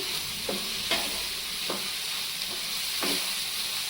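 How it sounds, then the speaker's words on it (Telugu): Two small-cut tomatoes sizzle steadily in a curry pan for a drumstick and egg pulusu, with a few soft stirring scrapes spaced through the hiss. "ఇప్పుడు టమాటాలు కూడా కొంచెం వేగే వరకు ఉంచుకోవాలి."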